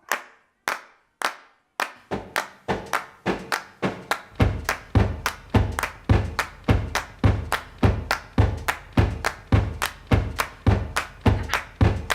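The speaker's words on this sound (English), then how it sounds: "We're doubling the claps up at the end." Hand claps recorded for a song, starting as a few sparse single claps and then settling into a steady, tight rhythmic pattern of doubled claps, crisp and close with a low thump under each hit.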